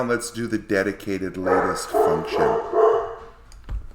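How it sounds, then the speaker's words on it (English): Pet dogs named Molly and Bella bark in a house, a quick run of repeated close barks and yips that then fade as someone talks over them. "Sorry about the dogs."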